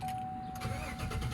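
Engine of a 2018 GMC Sierra 1500 SLT Alpine Edition pickup truck cranking to life and settling into a steady low idle, heard close by inside the cab.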